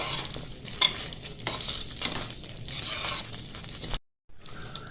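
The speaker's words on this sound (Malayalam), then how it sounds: "ഈ സമയത്ത് കുറച്ച് കറിവേപ്പില ഇട്ട് കൊടുക്കുക. എന്നിട്ടൊന്ന് നന്നായിട്ട് ഇളക്കി കൊടുക്കുക." Curry leaves stirred in hot oil in a pan for a Kerala tamarind dish: close scraping stirs over a crackling sizzle, with a brief dropout near the end.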